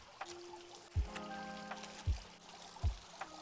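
Water trickles softly in a garden fountain, a faint steady flow broken by three low thumping drops or splashes, with a thin tonal ring lingering between them; no one speaks.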